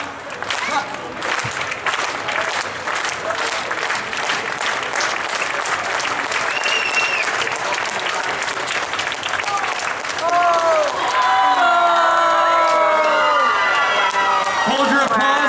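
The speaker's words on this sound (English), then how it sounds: "Hold your applause." Sustained applause and cheering from a state fair dive show crowd, dense clapping mixed with whoops and children's shouts, then a brighter surge of cheers and whistles near the end, loud and close, with an announcer talking over it.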